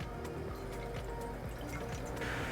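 Lime juice poured into a saucepan of soy sauce and water, a faint liquid trickle and dripping under steady kitchen background noise, with a brief splashy burst near the end.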